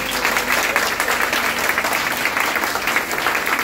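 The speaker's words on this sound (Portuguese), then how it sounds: "uma salva de palmas bem forte para o neurologista Fernando Bermudes Cabral." Strong, sustained audience applause at a fashion show and animal-protection event in Serra, with dense continuous clapping for the full few seconds and no talk over it.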